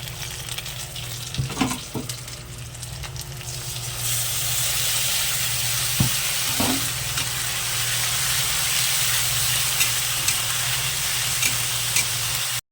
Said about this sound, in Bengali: এখন একটু ভালোভাবে নাড়িয়ে নেব, নাড়িয়ে চাড়িয়ে হালকা ভেজে নেব